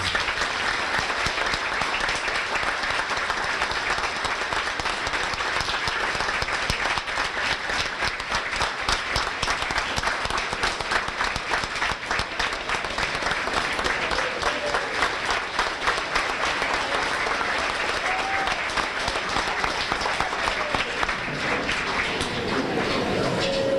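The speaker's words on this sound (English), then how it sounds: "So let's give Travis a big round of applause." Audience at a high school winter sports banquet giving a standing ovation for a student athlete, loud sustained clapping from a large crowd that continues unbroken for the whole stretch, with faint crowd murmur underneath.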